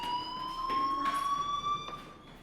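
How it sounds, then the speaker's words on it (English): A school fire alarm in the Life Is Strange video game sounds as a steady electronic tone with faint harmonics, distant and continuous, plus a few soft background noises. "do you hear that fire alarm?"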